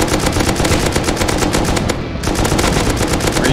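Sustained automatic gunfire in the Rust video game, a loud, dense rapid stream of shots with one brief pause before firing resumes.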